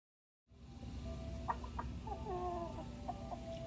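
Chickens kicking up dirt in a dust bath give soft, intermittent clucks and murmurs close by over a steady outdoor background, with no talking.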